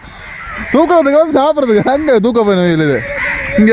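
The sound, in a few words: crows cawing at the seashore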